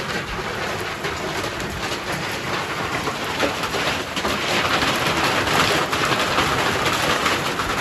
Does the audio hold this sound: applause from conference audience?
no